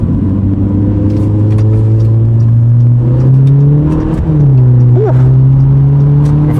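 A 1.4 Ford car engine revs loudly and steadily while driving, its pitch rising and settling, with a brief dip as the gears change before the drone climbs again.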